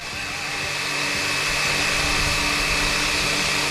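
A Fly Wing AS350 Squirrel RC helicopter with GPS spins its rotors up for takeoff outdoors, giving a loud, steady whirring whine with a high motor tone that swells slightly and then holds.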